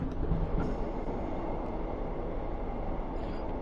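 A Virgin Pendolino train in Train Sim World 6 runs with a steady rolling rumble and wheel noise on the rails, a constant faint drone with no voices.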